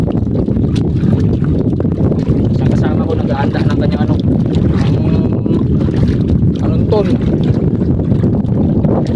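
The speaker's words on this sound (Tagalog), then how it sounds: "Malakas ang hangin." Strong wind roars across the microphone in a constant blustery rush beside a strong-flowing river while someone speaks over it in Filipino.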